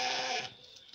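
Sheep and lambs in a growing flock bleat, with one loud, close, drawn-out bleat followed by fainter bleats in the background.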